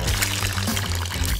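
Water poured into a shoe as a playful prank, a steady close gush of liquid lasting about a second and a half against a busy background.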